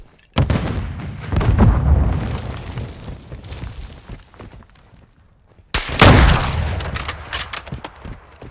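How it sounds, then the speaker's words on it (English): Call of Duty Modern Warfare 2 combat: dense, loud gunfire and booming blasts, then a sudden heavy grenade explosion midway followed by more rattling shots and rumbling echoes. "Throwing grenade!"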